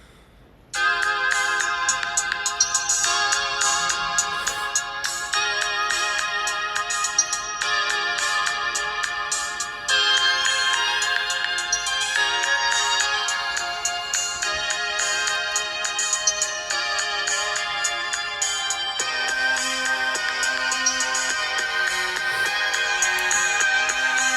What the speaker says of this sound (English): I love that ringtone.